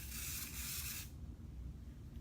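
Airbrush spraying makeup onto a face, a close steady hiss for about a second that cuts off abruptly, leaving quiet low room noise.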